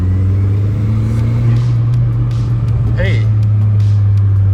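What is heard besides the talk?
20-year-old VW GTI engine revving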